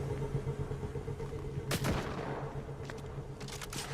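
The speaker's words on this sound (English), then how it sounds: "Oh, somebody has a sniper rifle." Sniper rifle fire in Fortnite: a few sharp, fairly distant cracks, one prominent shot followed by several quicker, fainter reports over a steady game-ambience hum.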